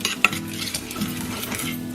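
Cumin seeds sizzle in a hot pan while cooking a vegetable samosa filling, giving a steady close crackle with a few light stirring clicks and no talk.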